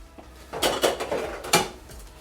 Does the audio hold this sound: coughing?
no